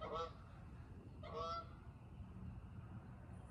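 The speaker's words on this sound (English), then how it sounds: "There's a goose flying at 10 o'clock at night." Geese honk twice while flying overhead at night, two clear calls near the start and middle of an otherwise quiet outdoor hum.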